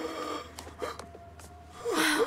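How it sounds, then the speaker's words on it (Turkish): Quick, panicked breaths come in short sharp gasps and wheezing inhales, close and fairly loud over a low background rumble, ending in a harsher, strained intake. "Hızlı nefes alıyorsun."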